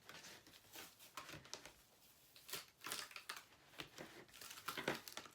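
Cut material peels off a Cricut cutting mat up close in quiet, irregular bursts of crinkling and tearing. The soft rips come and go with short pauses between them and no voices.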